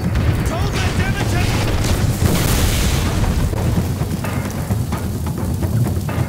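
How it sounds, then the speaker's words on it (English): Explosions rumble through a burning building in the video game Singularity, a dense, continuous boom and roar with crackling bursts, loud and close, with a voice talking faintly underneath. "I'm carrying a guy through a burning building, it's all dramatic, there's explosions everywhere."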